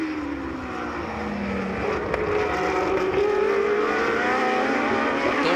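Historic Formula 1 race cars from 1966 to 1985 roar past at speed on a road course, their loud engines rising and sweeping as they pass close by, layered over one another.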